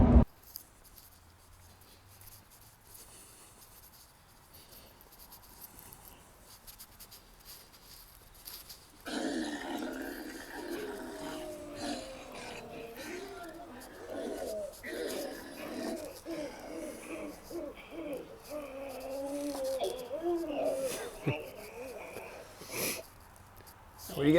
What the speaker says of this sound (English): There's that ambient sound I was talking about. The slight growling of the zombies.